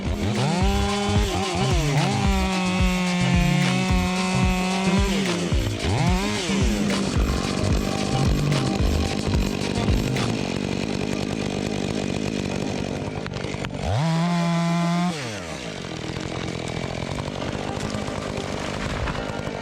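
A Stihl 500i chainsaw roars continuously, its engine revving up and dropping as it bites into wood, loud and close throughout.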